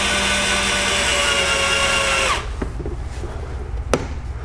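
A power drill whines loudly and steadily while cutting into a BMW F30 interior door panel part, then stops abruptly, leaving a few light knocks and a sharp tap in quieter background.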